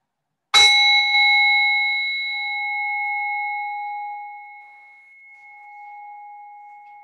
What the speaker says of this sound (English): In a moment, you'll hear the sound of the bell as a way to start to come back.